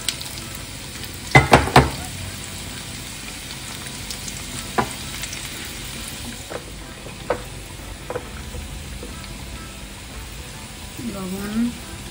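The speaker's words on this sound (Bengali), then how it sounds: "শুকনা মরিচ আর কিছু রসুন একটু ভেজে ভেজে নিচ্ছি" Dried chilies and garlic fry in oil in a pan, a low steady sizzle with a few sharp clatters of utensils near the start and scattered light knocks, while a voice speaks faintly underneath.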